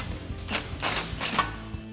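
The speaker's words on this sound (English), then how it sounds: "Now we have 18mm socket to tighten those down, and also our 3/4 wrench." An 18mm socket on a ratchet tightens brake caliper bolts on a 2014-2018 Silverado 1500, giving a few close, short clicking bursts of pawl ratcheting.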